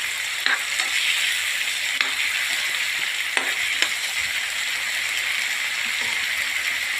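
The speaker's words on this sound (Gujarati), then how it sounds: "એને પણ સરસ શેકાવા દઈશું આપણે." Paneer and salad vegetables fry in a pan with a steady, close sizzle, broken now and then by sharp clicks of stirring.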